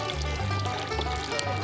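Water poured into a pot of stew stock filling with about three gallons, a steady close splashing stream lasting under two seconds.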